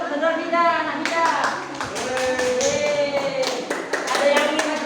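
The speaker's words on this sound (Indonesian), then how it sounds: "Tepuk tangan untuk saudara Nida, anak Nida." Children in a classroom clapping for a classmate, scattered bursts of hand claps mixed with the teacher and several children talking over them.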